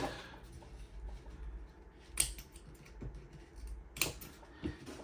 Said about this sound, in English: we are going to cut it with some scissors here